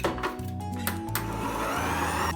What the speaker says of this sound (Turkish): Daha sonra sıvıları bir güzel çırpıyorum.